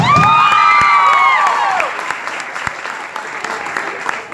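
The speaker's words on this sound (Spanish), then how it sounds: "¿Un aplauso para ella?" An audience at a children's show claps loudly and cheers, with shouts and whoops over the applause before it thins out into scattered, fading clapping.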